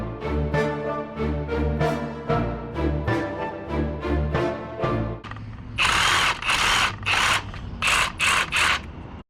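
A ratchet tightens the motor mount bolts on a Honda Ruckus with a 150cc GY6 swap, clicking in quick rhythmic bursts with a steady, close whirring that turns into sharper, brighter, louder strokes partway through.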